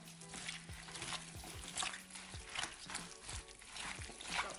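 Kimchi seasoning paste is worked together with a large bunch of chopped green onions, giving wet, squelching stirring sounds in uneven bursts, close up, with a faint low hum running beneath.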